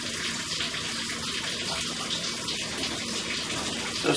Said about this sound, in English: Can you give me a toilet flush, please?